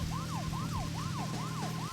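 A repeating rising-falling electronic tone, about four cycles in two seconds, sounds steadily over a low engine hum as the low-gas warning in Deadly Premonition: Director's Cut.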